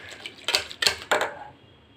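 A utensil knocks and scrapes against a pressure cooker pot while mashing boiled amkusi pulp, producing three or four sharp metallic clanks close by, then a quieter tail.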